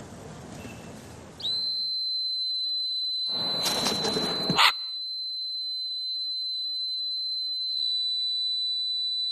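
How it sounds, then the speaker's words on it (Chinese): A whistle blown in a TV studio to call back a parrot gives a sustained, piercing high tone that holds steadily for about eight seconds, briefly overlapped by a burst of broadband noise midway. "那口哨的声音"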